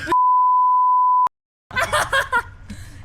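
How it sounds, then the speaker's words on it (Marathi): A single steady censor beep sounds loud and alone for about a second, then cuts to a short silence before laughter and voices follow. "बीप करायला लागेल आता मला"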